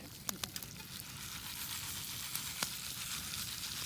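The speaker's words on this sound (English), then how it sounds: "I can hear the butter boiling in it." Butter boils and sizzles in a pan over a large outdoor bonfire, a steady dense crackling hiss with a few sharp pops near the start and one more later, close and continuous.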